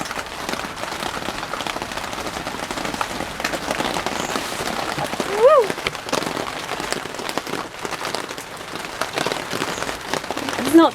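Heavy rain drums on a greenhouse during an autumn thunderstorm, a steady close patter throughout with a brief swell near the middle, plus a faint chirping call.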